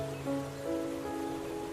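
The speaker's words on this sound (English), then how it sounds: "as the forest remains peaceful even while the rain is falling." Steady rain falls through a forest, a soft even hiss of drops on leaves and ground, close and continuous, with faint tonal hums running beneath it.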